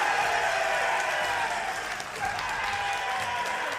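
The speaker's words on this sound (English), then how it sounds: "here the crowd going crazy" A large crowd applauds loudly and steadily at the YCS Dortmund final, a Yu-Gi-Oh card game championship event, with dense continuous clapping and cheering filling the hall throughout.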